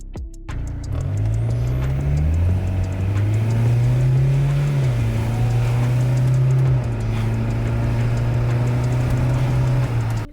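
A car engine revs and pulls under acceleration during a test drive after a converter replacement. The pitch climbs, levels off, dips and rises again as a loud, close, continuous drone with no voices.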